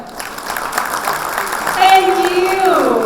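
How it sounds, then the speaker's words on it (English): Broad, steady crowd clapping at a conference opening ceremony builds and holds, with a few sustained tonal notes rising over it near the end. "one final massive round of applause"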